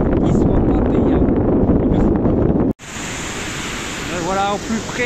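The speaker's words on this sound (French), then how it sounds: "Voilà au plus près des cascades, bien nommées" Waterfalls roar up close as a dense, steady rush, first heavy and buffeting, then after a brief cut a smoother constant roar, with a voice speaking over it near the end.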